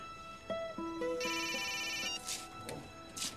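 A telephone rings nearby with a repeated electronic bell tone, several bursts of ringing over a few seconds at moderate loudness, with no talking over it.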